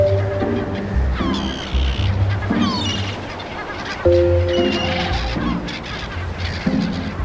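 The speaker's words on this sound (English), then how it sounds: "Even a gang of noisy gulls is worth investigating." A noisy gang of gulls calls on a beach where young elephant seals play, giving repeated honking and yelping cries with falling tails. Surf washes in the background.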